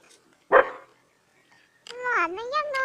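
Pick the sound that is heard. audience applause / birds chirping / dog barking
dog barking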